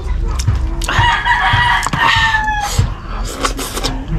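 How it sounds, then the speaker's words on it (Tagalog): Chicken clucking and crowing loudly nearby in a hot outdoor cooking spot, with several drawn-out calls and cackles over a steady background of other noise. "Ang ingay ng manok mo ito."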